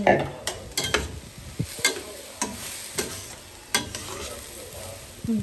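Beetroot tossed into hot tempering sizzles in a pan, with a steady fry hiss broken by sharp scraping stir clicks of a spoon against the pan, close and moderately loud, no talking.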